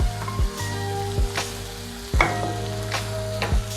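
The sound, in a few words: food frying in butter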